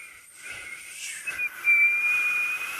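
Someone attempting a lip whistle, producing a breathy, airy hiss that settles into a thin, wavering sustained tone, heard up close with no talking.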